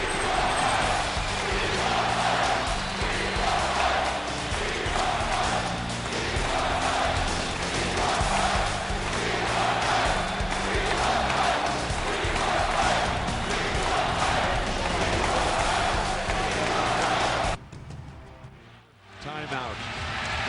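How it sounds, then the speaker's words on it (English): A packed basketball arena crowd stands and cheers in a loud, sustained roar with scattered shouts, holding steady before dropping off sharply near the end. "A whole building standing and cheering."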